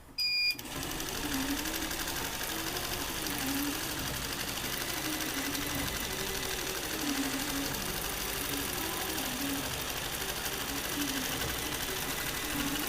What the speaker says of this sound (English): you start sewing and you're in a basting stitch